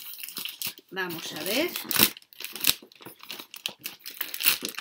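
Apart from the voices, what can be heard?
opening and unwrapping a package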